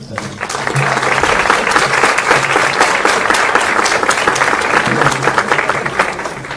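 Cordial applause from an audience welcoming a speaker at a university gathering of an international Golden Age association, dense steady clapping that holds loud and even throughout without a break.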